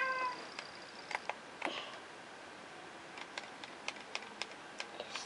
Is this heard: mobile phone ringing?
no